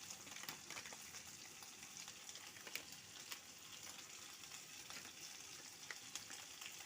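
Ground turmeric, coriander, chili and cumin sautéing in oil in a pan, a soft continuous sizzle and crackle with light stirring, quiet and even from start to finish.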